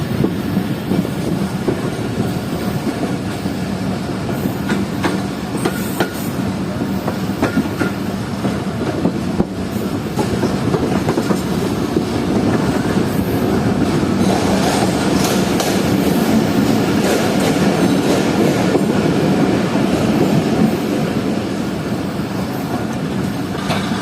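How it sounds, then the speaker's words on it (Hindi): Khyber Mail passenger train hauled by an AG30 locomotive runs through Tando Adam Junction station at night without stopping; a steady, loud rumble with clickety-clack wheel beats continues throughout, with no voices. "हमारी ट्रेन इस वक्त स्किप कर रही है टंडो आदम जंक्शन रेलवे स्टेशन को।"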